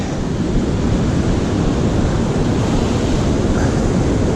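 Rough sea waves break near a rocky fishing platform, a constant loud roar of surf and wind rumble with no breaks and no voices.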